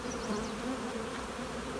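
Honeybees, many field bees, buzzing at a hive: a steady, dense drone close by, with no voices.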